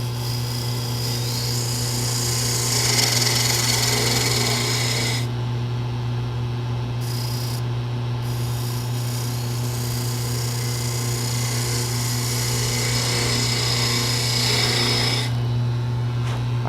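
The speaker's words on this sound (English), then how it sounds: "so I do like to use a spindle gouge there." A spindle gouge cuts a turning workpiece on a wood lathe for a toothpick dispenser, producing a steady motor hum under a continuous rasping, scraping sound that briefly drops away partway through.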